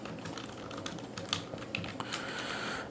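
Rapid, uneven keystrokes on a computer keyboard while writing blockchain smart contract code, clicking steadily at close range for a few seconds with no talking.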